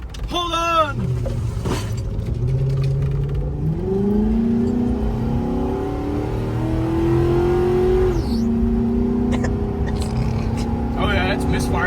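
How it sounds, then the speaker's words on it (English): A 2006 Ford Crown Victoria engine running rough with a misfire, a low droning idle that rises and falls with revs over about twelve seconds, close by, with voices speaking at times. "Oh yeah, it's misfiring like crazy."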